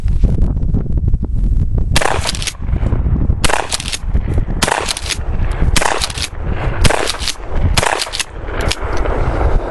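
Mossberg 590 pump shotgun fitted with a Blackhawk stock fires a string of loud, sharp blasts, about six shots spaced roughly a second apart, each ringing out close over steady outdoor background noise.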